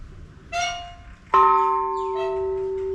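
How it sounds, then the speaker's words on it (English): A temple bell in Chiang Rai, Thailand, is struck twice: a lighter ring first, then a hard, loud strike that rings on with a long, steady sustained tone. "Please softly bang the bell."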